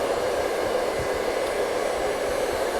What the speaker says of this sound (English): I'm not moving the blow dryer a lot, just letting that air flow over, making the cuticle nice and shiny